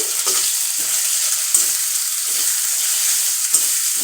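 Ginger paste and gram flour paste fry with chickpea curry in a pan while being stirred, a steady close sizzle with soft scraping strokes and a few sharp clinks of a spoon, no talk.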